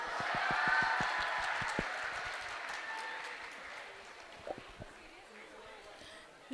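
An audience at a gathering applauds, brisk clapping that swells early and then thins and fades into scattered claps and low room noise.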